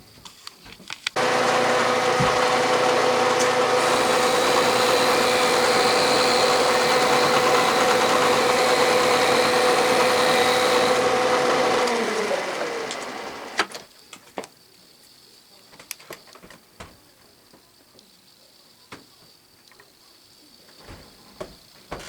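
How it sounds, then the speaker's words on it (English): A milling machine climb-mills a finishing pass on an arbor press nut cracker part, a loud steady cutting whine and rumble for about eleven seconds before spinning down, followed by quiet workshop sounds and small clicks. "I'll climb mill on the pass cut for a good finish"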